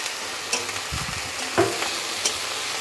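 Garlic cloves fry with chopped onion in a pan, a constant sizzle broken by a few scraping stirs of a spatula.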